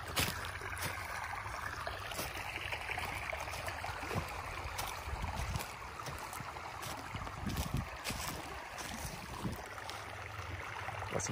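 A creek flows near Big Bear Lake, with a steady close rush and gurgle of water that stays constant and carries no talking.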